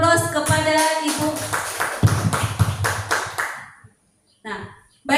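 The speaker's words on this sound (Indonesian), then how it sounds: "Nah, kita berikan aplaus kepada Ibu." An audience applauds a presenter at a school talk on positive culture, a dense burst of clapping for about three and a half seconds that dies away, followed by a brief rustle.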